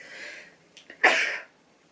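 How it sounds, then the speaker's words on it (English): Two quick breathy intakes build into one loud, sharp sneeze up close, then quiet. "I need to sneeze."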